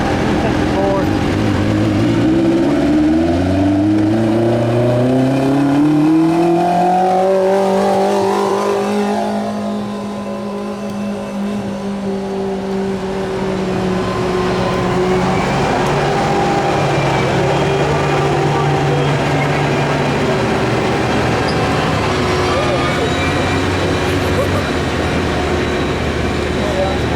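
A modified lawn tractor pulling 1200 lbs at a tractor pull revs hard, its engine note climbing and then holding high in a long, loud, strained drone. Crowd noise and an announcer's voice sit underneath.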